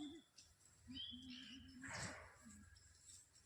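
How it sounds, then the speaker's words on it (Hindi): Faint birds chirp and tweet in a sal forest, with short whistled calls and brief trills over quiet ambient noise. "और चिड़ियों की चहचहाहट,"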